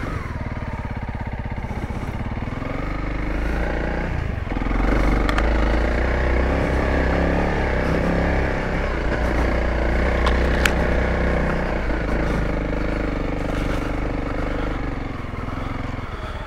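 Dual-sport dirt bike, a 2022 Honda CRF300L or 2023 Kawasaki KLX300, climbing a rooty trail with a steady, loud engine drone that swells with throttle partway through, heard close up with wind rumble.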